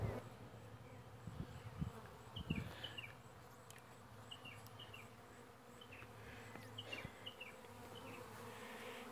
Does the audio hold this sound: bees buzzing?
yes